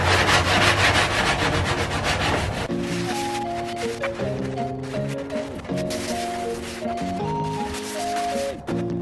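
Rhythmic scraping strokes of hand sanding on plywood edges, loud at first, then continuing under steady background music.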